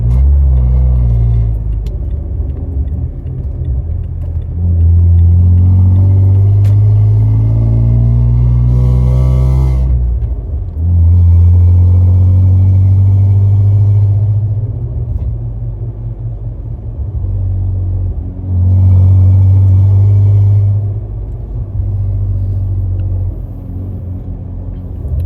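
Toyota Tacoma with URD extractor pipes and a Y-pipe, heard from inside while driving: a loud, deep exhaust drone that rises and settles through gear changes, steady and alone without talk.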